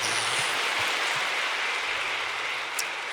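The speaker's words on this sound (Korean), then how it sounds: "큰 박수로 영광을 돌립니다." Congregation applause fills a church during a Korean Sunday worship service, a dense, steady wash of many hands clapping at moderate volume with no talking, fading slightly near the end.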